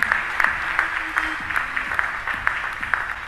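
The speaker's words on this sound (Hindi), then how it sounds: "जोरदार तालियां।" At a prize announcement event in Chhindwara, an audience claps loudly in a roughly regular rhythm, with crisp hand claps repeating every half second or so over a faint steady hum.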